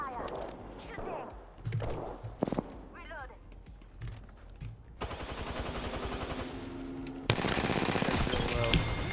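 Gunfire rattles through a squad-based shooter game with teammates calling out, starting as scattered shots under speech and swelling into loud, sustained automatic bursts that keep on to the end.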